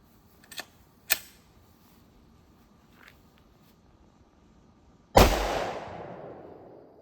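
A Glock Model 20 pistol with a 4.6-inch barrel fired over a chronograph, with a few light clicks followed by one sharp loud report that decays into a long ringing tail, close and with no talking.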